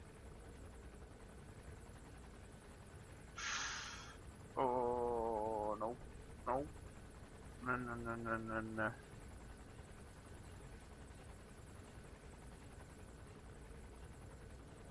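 A helicopter in the video game Metal Gear Solid 5: The Phantom Pain gives off a low, steady rotor drone throughout, while someone speaks a few short bursts over it.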